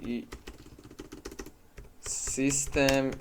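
Fingers type quickly on a computer keyboard, giving a run of close, light key clicks, and then a voice starts talking over the last of the keystrokes.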